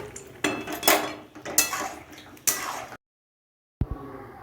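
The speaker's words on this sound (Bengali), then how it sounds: "লঙ্কার গুঁড়ো দেওয়ার পর ভালো করে মিশিয়ে নিচ্ছি।" Spoon scraping and clinking against a pan while chili powder is mixed into a Lotte fish curry with mustard paste, a few sharp metallic scrapes in bursts, then a brief silence and one last knock.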